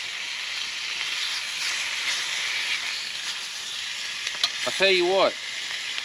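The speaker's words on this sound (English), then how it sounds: "I don't think y'all can actually see my food cooking" Food frying in a well-seasoned skillet over an outdoor campfire, a steady close sizzling hiss throughout, with someone briefly talking near the end.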